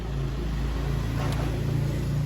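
Engine of an automatic scooter revving at high RPM, a steady close mid-pitched drone that holds level throughout, with no talk over it.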